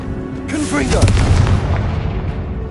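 A Confringo spell explodes in Hogwarts Legacy, a loud booming blast with a rising whoosh that swells and then rumbles out over a couple of seconds, close and heavy.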